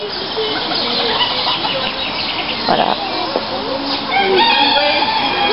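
Silkie chickens cluck continuously in a busy poultry yard at an animal park, with a rooster crowing partway through; a voice speaks briefly.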